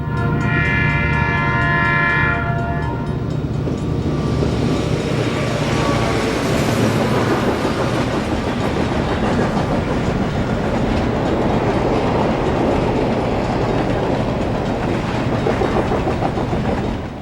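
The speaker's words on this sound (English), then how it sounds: "trio of GP30s powers a westbound freight through Brunswick" A westbound B&O freight train pulled by three GP30 diesel locomotives rolls through Brunswick, Maryland, opening with a loud horn blast, then steady engine roar and continuous clickety-clack of passing freight cars, close and loud throughout.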